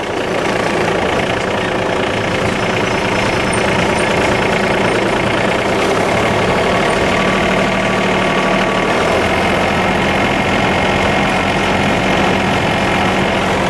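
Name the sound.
old vehicle engine running with throttle applied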